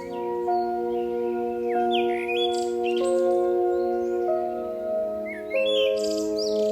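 A caged Jhilmil bird chirps with clear, repeated tweets and short trilling calls, fairly close and steady, over a soft bed of sustained musical tones.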